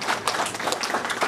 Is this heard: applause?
yes